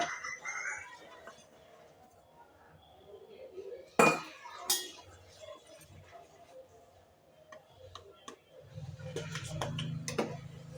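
A spoon stirs sago payasam in a metal pot, scraping and clinking against the sides with a few sharp knocks, over a low background hum.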